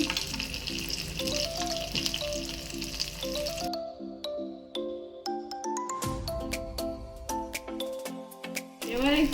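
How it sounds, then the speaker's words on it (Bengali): Black cumin, dried chili, chopped garlic and crushed bori sizzle in hot oil in a village kitchen, a crackling fry loudest at first, then partly masked by background music with melodic notes. "কালো জিরে দিলাম, শুকনো লঙ্কা, রসুন কুচি, গুঁড়ো করা বড়ি"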